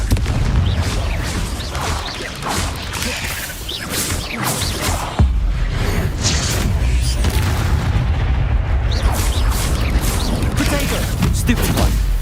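Hogwarts Legacy's Confringo spell sets off repeated booming, rumbling blasts with crackling debris, loud and close, continuing across the whole stretch with a sharp jump in intensity midway.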